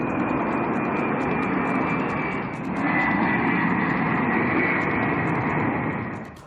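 An AN-32 military transport plane's engines drone steadily and loudly, a broad continuous roar that dips briefly midway and then swells again, with no other sounds.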